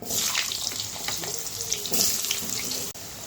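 Potatoes slid into hot oil with bay leaf and panch phoron for a potol, aloo and paneer curry, giving a loud rushing sizzle with brief clatters and a sharp knock near the end.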